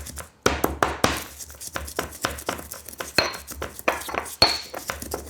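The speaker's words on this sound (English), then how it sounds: "So I'm just going to crack some cardamom." Cardamom pods cracked with a pestle in a mortar, a run of sharp close knocks and clinks at an irregular rhythm, some louder strikes standing out, with no talk.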